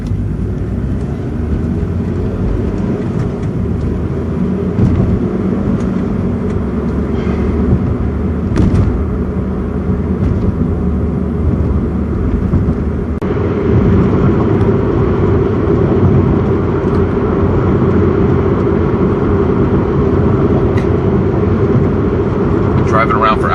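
From inside a moving car, a steady engine and road rumble runs throughout, with a shift in tone about halfway through, while people talk over it.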